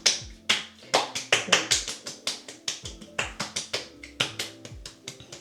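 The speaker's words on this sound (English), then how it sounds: "I literally just put it on both my palms, clap my hands, and then I'm just gonna slap my face" Palms wet with toner slap and pat against a face in a rapid, sharp run of close, crisp smacks, about four per second, continuing steadily with no talking.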